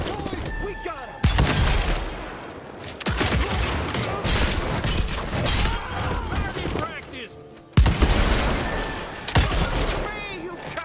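Gunfire and heavy impacts in the Evil West video game, with repeated shots and booms over a dense, noisy combat mix, joined by voices and sharp bursts that cut in abruptly.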